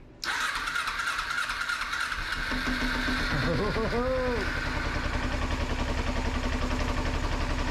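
A 2007 Kawasaki Ninja motorcycle, run again after sitting for five years, cranks briefly and catches. Its engine then settles into a steady, loud idle close by, running continuously to the end.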